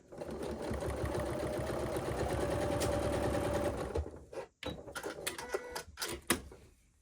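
A sewing machine stitches cording into a dress with a steady rapid whir for several seconds, then stops and restarts in short bursts with clicks and handling noise.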